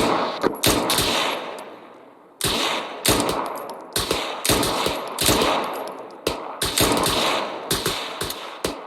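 Rapid bursts of gunfire in the military shooter Arma 3 crack in close, loud, repeated volleys with short pauses between strings of shots, one longer gap near the start.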